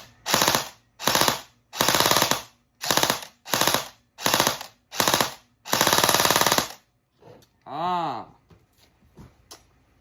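An airsoft gun fitted with a Burst Avocado MOSFET fires repeated loud full-auto bursts of rapid clicking shots, eight close bursts of varying length, followed by a short whirring sweep and a few faint clicks.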